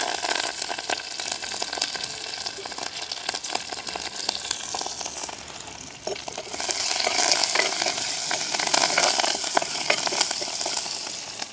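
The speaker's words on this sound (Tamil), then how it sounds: "தாளிக்கிறதுக்காக கொஞ்சமாக கடுகு, பெருஞ்சீரகம், கருவேப்பிலை எடுத்துருக்கிறோம்" Mustard seeds, fennel seeds and curry leaves sizzle and crackle steadily in hot oil for a village-style Sri Lankan vada curry tempering, a dense, continuous frying hiss with stirring, growing a little louder in the second half.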